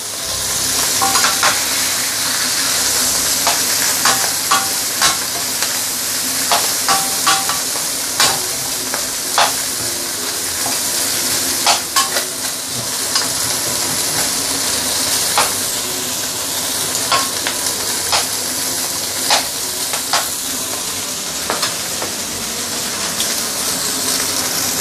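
Ginger sautéed in leftover oil for fish head soup sizzles loudly and steadily, with frequent sharp clicks and scrapes of a utensil stirring in the pan.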